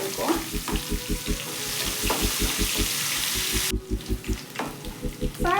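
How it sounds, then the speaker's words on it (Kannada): Grated ginger frying in a pan, a close bubbling sizzle with a rapid regular pulsing rhythm and occasional stirring scrapes, the hiss dropping away partway through. "ಶುಂಠಿನ ಸ್ವಲ್ಪ ಫ್ರೈ ಮಾಡ್ಕೋಬೇಕು."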